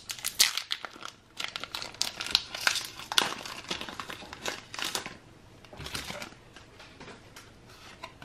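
Crinkling plastic wrapper of a Pokemon TCG Battle Styles booster pack being torn open and handled, a close, fairly quiet run of sharp crackles and rustles in bursts.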